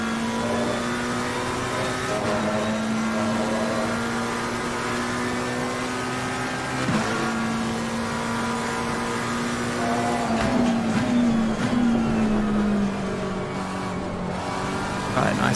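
A McLaren race car in Assetto Corsa Competizione at Silverstone, its engine droning steadily at high revs with shifting pitch as it accelerates and changes gear, continuous and close.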